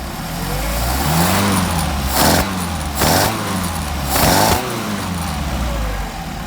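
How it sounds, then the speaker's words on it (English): Carburetted engine fitted with a Solex carburetor revs up three times in quick bursts over a steady idle, each rise loud and close before falling back. "we're going to rev it up and see what it sounds like"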